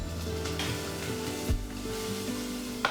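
Fresh peeled turmeric slices fry in hot oil in a wok, giving a steady close sizzle with light stirring clatter and a couple of brief knocks, no talking.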